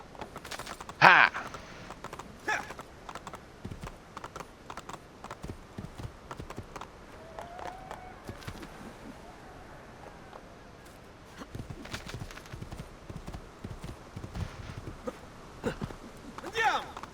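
Horse hooves clip-clopping during riding in the video game Assassin's Creed 2, a steady quiet gallop running under game music and someone talking, with a louder sound effect near the start.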